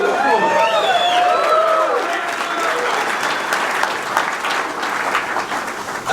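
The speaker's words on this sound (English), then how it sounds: "Yeah, and clap it up for me." An audience at a Colorado Buffalo's press conference breaks into loud, sustained applause that fills the room and slowly eases, with talk mixed in.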